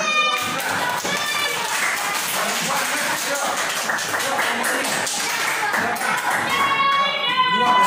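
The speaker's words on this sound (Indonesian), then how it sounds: "Tepuk tangan" Fourth-grade children in a classroom clap together, a busy, continuous patter of small hands that stays fairly loud throughout, with young voices mixed in.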